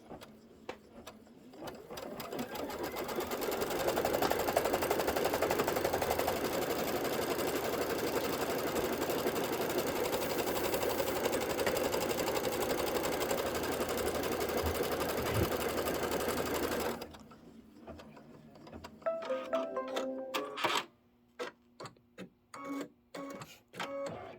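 An embroidery machine stitches a double pinwheel quilt block, humming in a steady, rapid, continuous drone for about seventeen seconds, then stopping into scattered clicks, taps and handling noises nearby.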